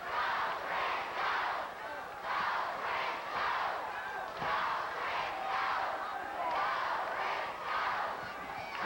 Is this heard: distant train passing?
no